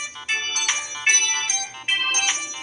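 A mobile phone rings with an incoming video call in a home kitchen: a bright electronic ringtone repeats in short melodic bursts, loud and close, with no talking.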